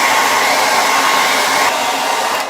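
A hair dryer blows steadily on fresh paint on a wooden owl door hanger, a loud, continuous whirring hiss that holds for a couple of seconds and then drops slightly at the end.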